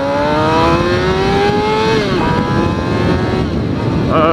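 A motorcycle with an ECU modification accelerates hard in first gear, its loud engine note rising steadily in pitch before a brief dip, with strong wind noise throughout.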